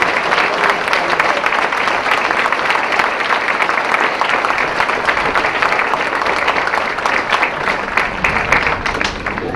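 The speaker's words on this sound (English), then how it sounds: "please join me in a round of applause" A large crowd at a Marine Corps recruit graduation ceremony applauds steadily and warmly, dense clapping sustained throughout without a break.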